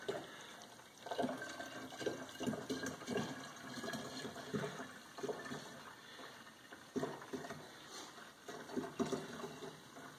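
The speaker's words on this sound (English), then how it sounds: "Shoot some more water from our machine." A machine dispenses water in a steady, gurgling rush with uneven surges and splashes, fairly quiet and close, lasting around ten seconds.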